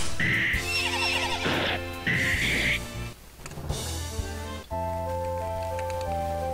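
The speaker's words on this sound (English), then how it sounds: "Horse whinnying." Horse whinnies and neighs from the video game Legion Saga III, several shrill rising calls in quick succession with snorts and a hoof clop between them, loud and close, with game music sounding beneath.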